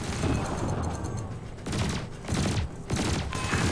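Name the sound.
ship cannon and laser firing in video game Elite Dangerous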